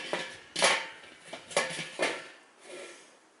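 A thin sheet-metal lid settles onto a 2-in-1 barbecue smoker with two grill levels in a few hollow metallic clanks and scrapes, four or five separate knocks, close and moderately loud, then fading.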